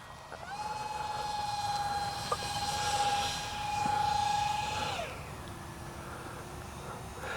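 A CNHL Horten Ho 229 RC jet plane flies overhead with a steady high-pitched electric fan whine that rises and sustains, then drops lower as it passes, over faint outdoor background.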